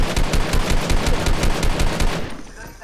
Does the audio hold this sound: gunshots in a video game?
yes